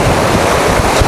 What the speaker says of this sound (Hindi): ये देखें पानी कितना तेज़ रफ्तार से आ रहा है, और ये देखें नाले का पानी कहीं दूर पहाड़ों से आ रहा है